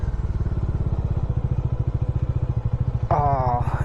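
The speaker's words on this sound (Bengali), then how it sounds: "চেন পুরো ড্রাই হয়ে গেছে, যে কারণে অনেকটা আওয়াজ আসছে।" A motorcycle with a dry, unlubricated chain runs with a steady, rapid pulsing engine beat and a mechanical clatter on a North Bengal road ride; a brief tonal sound joins near the end.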